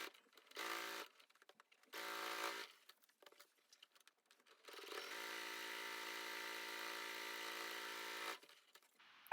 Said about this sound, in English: So I'm going to sew down the two long edges of the straps.